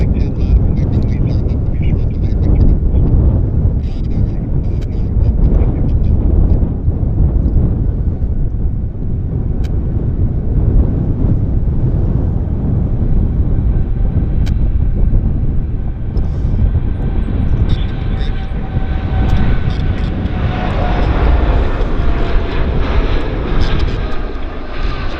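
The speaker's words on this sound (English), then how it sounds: "Airspeed is building." An airplane takes off at Vancouver airport with a loud, sustained roar of jet engines and rushing wind that holds steady for the whole stretch, its tone thinning and rising slightly toward the end.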